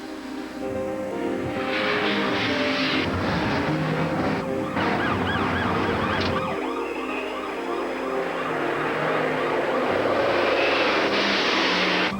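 A car races at up to 95 miles an hour on a road from Pennsylvania toward Baltimore, a loud, steady roar under a wailing police siren that rises and falls across the whole stretch.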